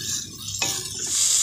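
Spices and bay leaves fry in a pan over a high flame, a steady bright sizzle with a scraping stir partway through, close and fairly loud.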